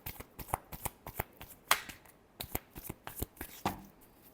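Tarot cards being shuffled by hand, a quick series of crisp flicks and riffling snaps in an uneven rhythm, close and clear with no talking.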